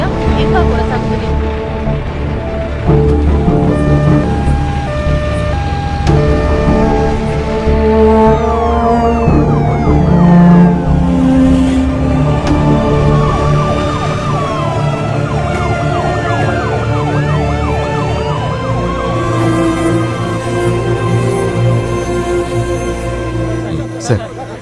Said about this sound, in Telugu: అంబులెన్స్ దారవదు.